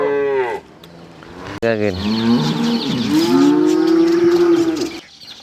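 Ankole/Girolando cow giving loud, close moos, a short call and then a long drawn-out bellow, with a brief spoken word from a person between them.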